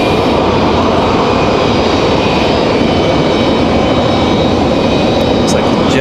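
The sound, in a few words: Air France airplane arriving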